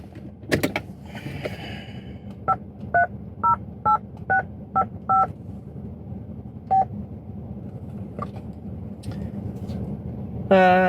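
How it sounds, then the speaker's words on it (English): Keypad tones from the built-in car phone of a 1989 Lexus LS400 as a number is dialed: a quick, even series of about seven clear beeps, then a pause, a few scattered tones and a louder sound at the end. "Don't mind me, I just need to make a quick phone call."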